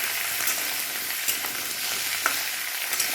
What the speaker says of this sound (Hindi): तो लाल करके भूनेंगे दोनों को,